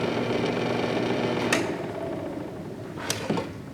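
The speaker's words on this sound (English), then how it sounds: "I've got it tipped up at a fairly sharp angle and making very fine shavings to get that last little piece trimmed off" A wood lathe spins steadily while a tool takes very fine shavings, a continuous whirring hum with two brief scraping bursts of the cut.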